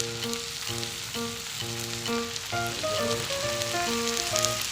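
Spices with turmeric powder sizzle and fry in a hot pan with onion, ginger and garlic, a steady close crackle with stirring scrapes and faint tonal hum in the background.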